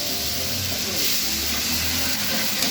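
Tomatoes and onions for a mixed vegetable sabzi fry in a pan, making a steady soft hiss and sizzle close by that holds for the whole stretch, with a faint low hum underneath.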